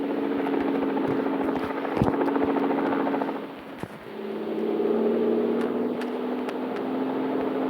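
A military helicopter in a video game thrums steadily throughout, its rotor drone dipping briefly midway and swelling back, with a few sharp clicks scattered over it.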